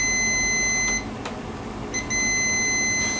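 Continuous high-pitched electronic beep of a continuity tester checking wiring on a Honda Dio moped with no spark, cutting out briefly for about a second with a small click, then resuming steadily.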